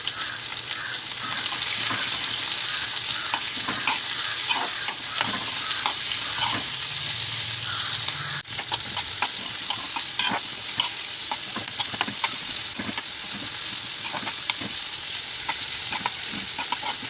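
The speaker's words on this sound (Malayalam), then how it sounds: "ഇനി നമുക്കിവിടെ ഉള്ളി ഒന്ന് വറുത്തെടുക്കാം" Onions frying in hot ghee in a pan, with steady loud sizzling throughout and frequent scraping and clinking of a stirring spoon; no talking.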